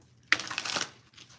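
A short burst of cards being shuffled, crisp riffling lasting under a second, close and fairly quiet.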